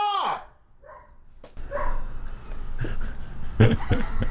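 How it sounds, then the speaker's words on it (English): A small female dog gives a high yelp followed by short barks and yips, close by, with a voice and some background noise in a garage-like setting during a Jeep TJ axle swap. "if she thinks that she's not being given enough attention, she'll start barking at the male dog"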